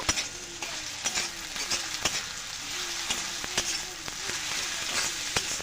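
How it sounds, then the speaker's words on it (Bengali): Ginger and garlic paste frying in hot oil with onions for a crab curry, a steady close sizzle broken by repeated sharp scrapes and taps of a spatula against the pan, no voices. "আদা এবং রসুন অল্প একটু ভেজে নেব"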